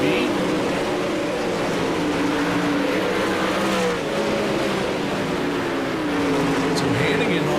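A dirt-track race car in a sim racing game, the number 22 running at Volusia, howls on the throttle with rising and falling revs while commentary carries on over the engine roar.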